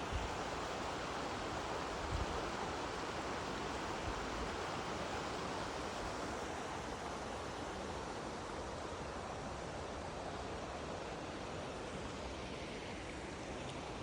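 Steady broadband rush of creek water flowing along a redwood hiking trail near Trinidad, continuous and even for the whole stretch with no voices.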